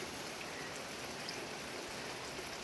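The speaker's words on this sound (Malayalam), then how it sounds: "നല്ലൊരു മഴയുള്ള ദിവസമാണ്" Steady, faint hiss of rain falling on a rainy morning, an even wash of drops with no voices and no breaks.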